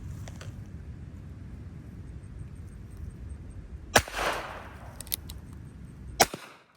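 Rifle shots fired at a coyote during a trapping outing ring out outdoors: one loud crack followed by a short rumbling echo, another sharp report about two seconds later, and a few fainter clicks in between.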